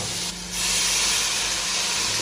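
Broth poured into a hot pan of chopsuey bursts into a loud, steady sizzle and hiss that swells after a brief dip and holds close and continuous.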